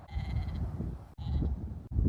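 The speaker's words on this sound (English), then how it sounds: "I have found some sheep." Sheep bleating in a farm field, several loud, close calls in a row with brief pauses between them, no talk.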